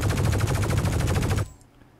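Rapid automatic gunfire from a video game weapon being tested, a loud, dense burst of evenly spaced shots lasting about a second and a half before cutting off abruptly.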